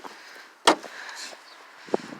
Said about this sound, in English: at least the door still opens